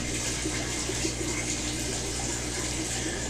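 Water rushes steadily out through a hose during an aquarium water change, a continuous loud gushing flow with a low hum underneath and no talking.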